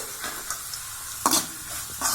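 Shredded cabbage and carrot stir-fry in hot oil for vegetable fried rice, a close crackling sizzle with a few sharp scrapes of a spatula against the pan.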